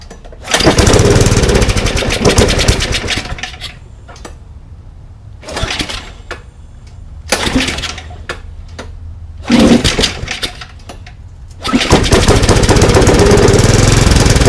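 A broken Yard Machines snowblower's small gasoline engine, primed through the carburetor, catches and roars loudly in several separate bursts of a few seconds each, sputtering out between runs before firing again.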